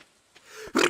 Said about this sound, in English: I was about to say I'm about to sneeze, and then I sneezed.